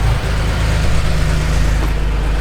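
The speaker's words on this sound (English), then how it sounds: "Another MG here as a Porsche rolls in." A Porsche rolls in during a Distinguished Gentleman's Drive outside Melbourne, heard as a loud, steady, low engine rumble that stays constant throughout, with no talking.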